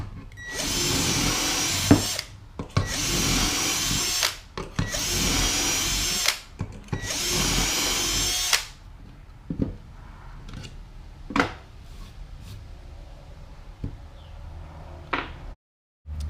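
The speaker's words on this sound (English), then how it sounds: "I used the Kreg shelf pin jig to drill all of these holes for the shelves" A drill bores shelf pin holes through a Kreg shelf pin jig in four loud, even bursts of about two seconds each, followed by scattered clicks and knocks as the jig and pins are handled.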